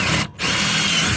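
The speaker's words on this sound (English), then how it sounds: "I'm going to try to poke a hole through here." A power drill bores a hole through the framework behind a Dometic RV fridge, a loud steady close whine that briefly drops out for a moment before resuming.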